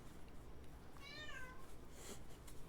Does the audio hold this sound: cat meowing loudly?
yes